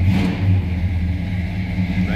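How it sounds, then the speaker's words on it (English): 1970 Dodge Super Bee with a 383 V8, a steady deep rumble up close that swells slightly, no voices over it. "Nice little deep growl out of that 383."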